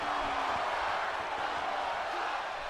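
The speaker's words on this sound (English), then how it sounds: "The crowd saying one more time" Crowd noise from a WWE 2K22 wrestling game match, a steady broad roar of chanting fans in an arena, continuous and fairly loud throughout with no voices talking over it.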